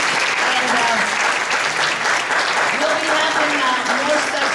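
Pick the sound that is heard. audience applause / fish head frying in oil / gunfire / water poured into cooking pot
audience applause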